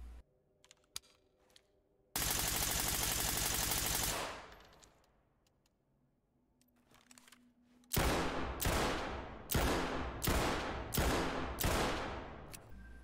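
Gunfire from the Ready or Not SWAT video game, with a sustained automatic burst for about two seconds, then a quiet gap with faint clicks, then six loud, evenly spaced heavy shots close up.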